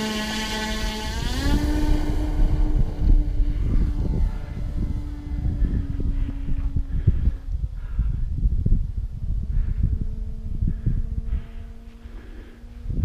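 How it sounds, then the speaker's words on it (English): An Edge 540 model aircraft engine starts up and runs steadily, its pitch rising and then holding with small shifts, close and fairly loud with no talk. "Engine on."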